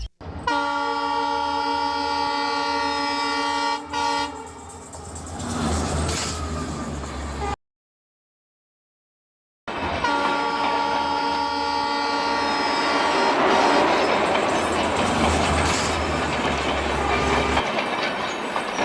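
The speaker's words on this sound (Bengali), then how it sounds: "কিছুক্ষণের মধ্যেই ট্রেন চলে আসে" A cartoon train pulls into a railway station, its horn sounding loudly over rumbling, clattering wheels, and the train noise grows heavier after a brief silent gap.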